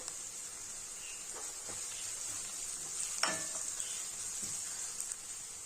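Chopped green chillies sizzle with lightly softened onions in a pan for a potato kurma: a continuous close frying hiss broken by a few soft scraping stirs and one sharper clack near the middle.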